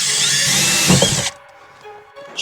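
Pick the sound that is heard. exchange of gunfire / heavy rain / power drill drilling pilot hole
power drill drilling pilot hole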